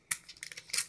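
Scissors snipping open a small plastic blind bag package of Thomas & Friends Minis toys, a couple of quick crisp cuts with light crinkling, close and brief.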